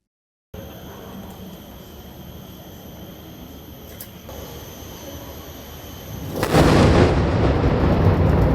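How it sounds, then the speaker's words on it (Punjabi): Controlled detonation of a 100 kg WWII bomb at a construction site: steady background hiss gives way near the end to a sudden broad roar that swells and stays loud to the close, with no talking. "ਇੱਕ ਨਿਰਮਾਣ ਵਾਲੀ ਥਾਂ ਉੱਤੇ ਜ਼ੋਰਦਾਰ ਧਮਾਕੇ ਨਾਲ ਬੰਬ ਧਮਾਕਾ ਕੀਤਾ ਗਿਆ"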